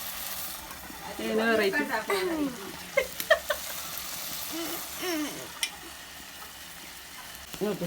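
Goat curry sizzling and frying in a pan with fennel seeds and crushed cashews, stirred in short bursts of scraping under Malayalam speech, with a moderate steady crackle throughout.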